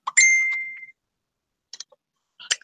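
Phone notification sounds in a quiet room: a bright ding with a lingering ringing tone at the start, followed by two short, fainter chiming blips about a second later.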